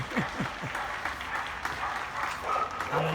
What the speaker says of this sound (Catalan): t'estan aplaudint amb braços en l'aire